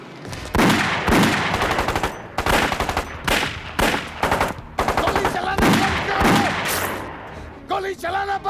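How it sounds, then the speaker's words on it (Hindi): Rapid bursts of machine gun fire, loud and close, repeating in long rattling volleys with shouting voices mixed in between. "मिर्ची, अपने आदमियों से कहो गोली चलाना बंद करें। हाँ हुकुम, बंद करो फायरिंग"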